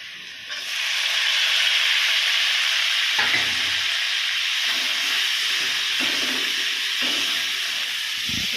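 Vegetables and tomato fry in a pan with a loud, steady sizzle and hiss, broken by a few soft stirring clatters.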